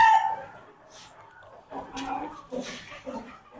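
Fancy chickens, including Polish cap, Japanese bantam and silkie breeds, cluck and crow on a Bangladeshi poultry farm, with a rooster-like call at the start followed by scattered, moderately close bird calls.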